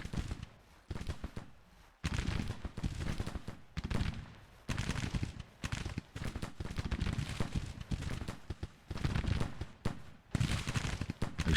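Sharps rifles fire in repeated crackling volleys in the Civil War strategy game Grand Tactician: The Civil War, dense bursts of musketry rolling on and off with short gaps between.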